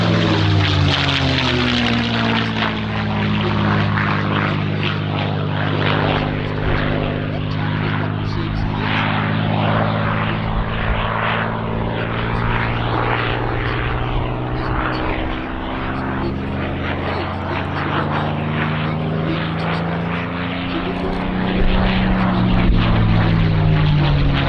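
A P-51 Mustang and a Spitfire, both powered by Rolls-Royce Merlin V12 engines, drone loudly and steadily as they fly, with a deep, continuous propeller roar that rises slightly near the end.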